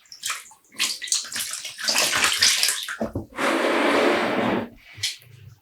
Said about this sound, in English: I'm squeezing out some of the water so I don't make a mess everywhere when I'm transferring them.